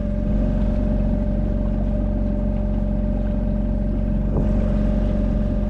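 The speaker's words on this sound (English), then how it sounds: "Plan today is we're just using the engine to get us down to the bottom of Loch Craignish." A sailboat's inboard engine motors down Loch Craignish in Scotland with a steady, loud, droning hum and no pauses. Water noise mixes in underneath, and nobody speaks.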